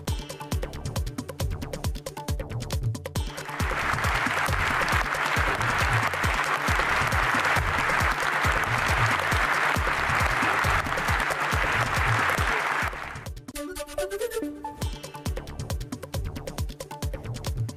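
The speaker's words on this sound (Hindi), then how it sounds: "सांसदों ने खड़े होकर ज़ेलेंस्की के लिए तालियां बजाई" British MPs give a standing ovation to Zelensky in Parliament, a thick sustained wall of applause that swells in, holds for several seconds and then cuts away.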